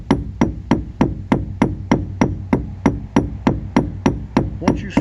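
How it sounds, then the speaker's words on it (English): A hammer strikes a screwdriver head again and again, sharp metallic taps in a steady rhythm of about three blows a second, close up, while a chainsaw chain is repaired by hand. "Once you strike a blow pretty much right on this screwdriver"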